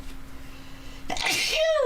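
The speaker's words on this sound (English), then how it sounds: "I gotta sneeze." A single loud, close sneeze bursts out sharply near the end after a brief quiet lead-in.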